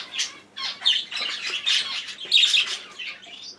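Young opaline budgerigars squawk and chirp in an aviary, a close, continuous, busy chatter of harsh calls and tweets.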